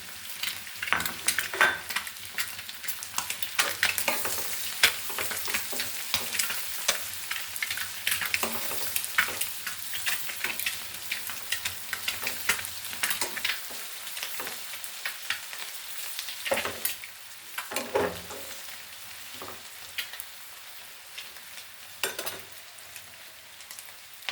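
Egg bhuna frying in a pan with three slit green chilies: a steady, dense sizzle throughout, broken by occasional sharper crackles and stirring clatters, with no talk.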